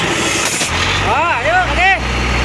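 A truck's exhaust brake engaging, giving a rising and falling whining engine tone over a low idle rumble, loud and close while people talk.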